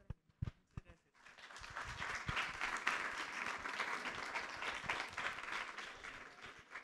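Audience applause at a public talk on gender-violence policy, starting after a few brief knocks and then holding steady as a dense, moderately faint wash of clapping to the end.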